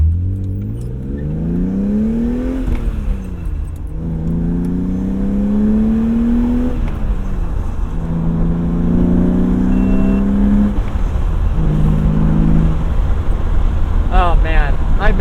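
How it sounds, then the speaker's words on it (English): A BMW E36 M3 engine settles at a low idle, then revs up repeatedly in rising sweeps that fall back each time, close and loud, with a sharper high rev near the end. "I'm idling at 700."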